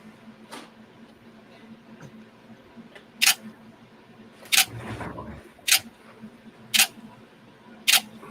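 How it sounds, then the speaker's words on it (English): A single-lens reflex camera fires five sharp shutter clicks, spaced about a second apart, close by against a quiet room hum with a soft rustle in between. "Take a photo."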